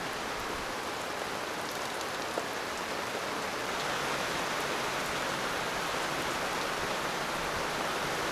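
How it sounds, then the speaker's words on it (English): A rain squall pours down in a continuous hiss, dense, heavy and even throughout with no voices. "Our first rain squall we've had here in like a week and a half."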